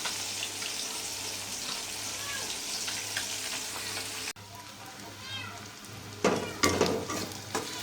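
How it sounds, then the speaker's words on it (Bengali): Onions frying in a pan in a home kitchen, a soft steady sizzle with stirring, interrupted midway by an abrupt cut, followed by faint clatter and louder crackles near the end. "এই যে পেঁয়াজটা ভাজা হচ্ছে।"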